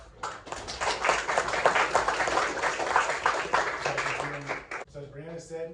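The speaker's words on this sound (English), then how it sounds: "please, just a quick round of applause for that" An audience at a UNR School of Medicine talk for high school students bursts into dense, loud applause that lasts several seconds, then fades as a voice begins speaking.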